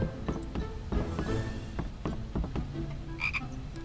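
Frogs croaking in a Harry Potter video game, a dense run of low, rapid, rattling croaks close by, with a brief higher chirp near the end.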